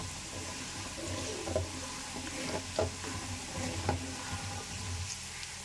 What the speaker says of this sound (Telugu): చూసారా చక్కగా వేగాలన్నమాట మెంతులు ఇవి.